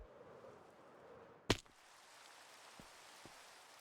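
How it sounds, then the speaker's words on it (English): Rain falls in the Minecraft video game as a steady, soft hiss, broken by one sharp close click and a couple of faint taps afterward. "Oh, the rain again."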